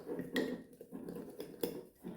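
A fork stirring flour and water into a batter-like sourdough starter in a bowl, with quiet repeated scraping and light clinks against the sides, close up and without talk.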